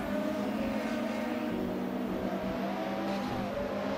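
Race car engines in a GT500 sim race at New Jersey Motorsports Park, including a McLaren F1 GTR, a steady loud high-pitched drone of several cars at speed with slight rev changes and no voices.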